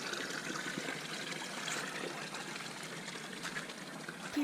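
Spring water pours steadily from a pipe into a bowl at an outdoor campground spring, a continuous close trickling and splashing with no voices.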